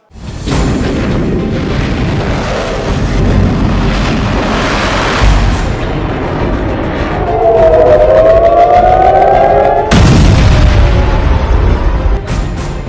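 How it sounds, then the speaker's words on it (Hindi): An air raid siren in Israel wails with a rising, climbing tone over a loud, dense rumble of booms and crowd-like noise. A sharp burst near the end cuts through before the din carries on. "ये सायरन की आवाज नहीं, लग रहा है कि इजराइल में जैसे कोई चिल्ला रहा हो"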